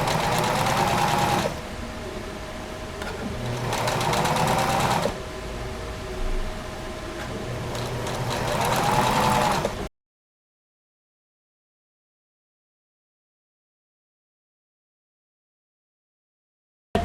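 A sewing machine runs in three sustained bursts with short pauses between them, stitching bias binding onto the underwire edge of a plus-size bra. Each burst has a steady whirring drone, and the sound then cuts to silence.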